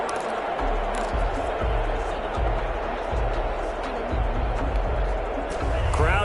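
Stadium crowd noise from an American football video game on PS4, a steady dense roar of cheering and babble swelling slightly, with thumping low beats underneath throughout.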